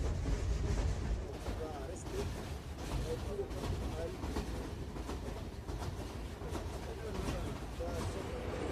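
Steady rumble of a train rolling along the rails in the Sahara, with a continuous rattle from the carriage and faint voices in the background.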